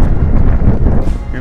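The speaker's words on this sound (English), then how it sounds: "windy day." Steady low wind rumbling and buffeting against the microphone in a pine plantation after a severe storm, loud and continuous throughout.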